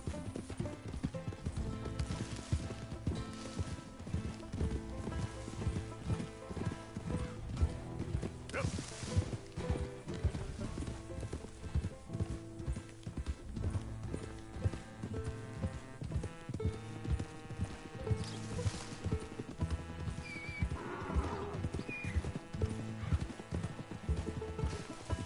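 A white horse in Red Dead Redemption 2 clip-clops in a steady, even gait throughout, with occasional whinnies over a layered game soundtrack and no talking.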